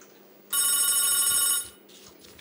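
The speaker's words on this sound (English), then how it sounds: "Phone's ringing, Bill." An office telephone bell rings loudly in one sustained burst of about a second, bright and metallic, then stops; faint room noise follows.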